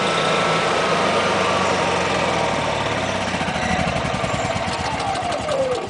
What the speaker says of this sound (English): Go ahead and shut the generator back off again.